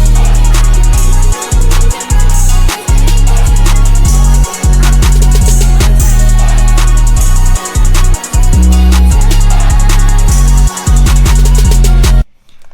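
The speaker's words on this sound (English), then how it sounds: "I have this 808 from the Florency drum kit. It's hard hitting 808," A hard-hitting 808 bass from the Florency drum kit plays a bouncy pattern of loud, booming notes with short gaps between them, running under a looping beat for about twelve seconds.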